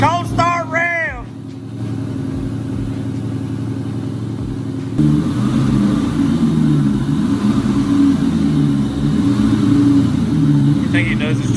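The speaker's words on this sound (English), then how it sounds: "Cold start ram!" A Ram pickup truck engine cold-starts after a stretch of background speech, its cranking giving way at about five seconds to a loud, steady idle with a rough, clattering rumble that runs to the end.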